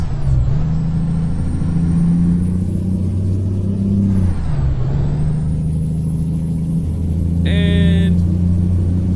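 A truck in Euro Truck Simulator 2 rumbles steadily with a loud, continuous engine drone, a rising whine shifting in pitch as it passes, and a brief hiss near the end.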